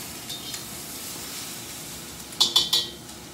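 Shrimp frying in a wok with Sichuan flavorings, a soft steady sizzle close by, followed near the end by three sharp metallic clinks of a utensil against the wok, with no voices.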